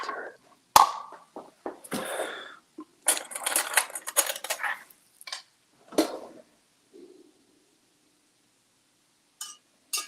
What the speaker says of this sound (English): Wait a minute, I gotta stir it.